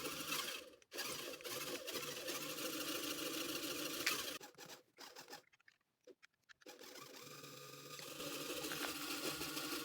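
Homemade LEGO bus wheels turn under LEGO motors, giving a fast, whirring, sewing-machine-like buzz that stops and starts in short bursts with a silent gap before it resumes.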